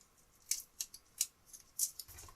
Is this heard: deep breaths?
no